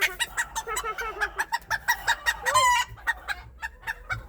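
Bantam rooster squawking and squealing in rapid, repeated bursts while held close, loud and continuous over roughly four seconds with one longer shriek in the middle.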